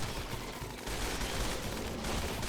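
Defensive turrets opening fire in a RimWorld colony battle, a dense continuous clatter of overlapping shots and impacts that holds steady and loud for the whole stretch, with no voices.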